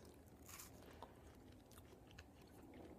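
Someone chewing a bite of mini watermelon, soft wet crunching and squishing close to the mouth, quiet and steady over a few seconds with no talk.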